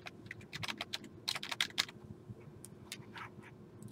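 Typing on a computer keyboard while an online college application is filled in, with quick irregular bursts of clacking keystrokes, close and fairly quiet, without speech.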